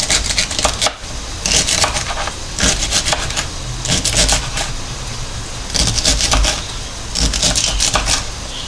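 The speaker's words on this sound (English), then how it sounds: "I'm cutting up 5 stalks of celery." A knife chops celery stalks on a cutting board in quick, loud bursts of rapid taps, separated by short pauses, close and alone without talk.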